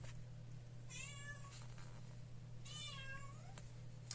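Two clear meows from a pet cat, evenly spaced and moderately loud, sound nearby over a steady low background hum with a few faint taps.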